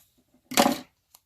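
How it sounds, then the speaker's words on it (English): Scissors cutting a corner nib off a small piece of paper from a repurposed file folder: a single short, crisp snip in a quiet room, followed by a faint tick. "I'm going to just cut the nibs off of it"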